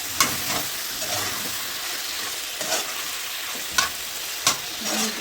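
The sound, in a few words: vegetables frying in a pan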